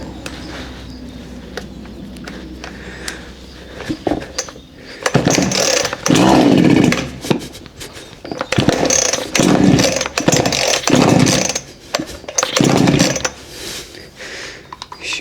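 A chainsaw is being started: a few quieter pulls and mechanical rattles, then the engine catches and revs loudly in repeated bursts close by.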